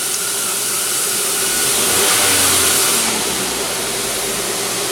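A Hyundai Kona engine swells in a brief throttle blip and settles back, a close, steady engine roar with no voices.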